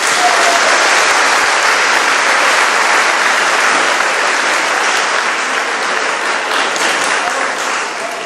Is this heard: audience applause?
yes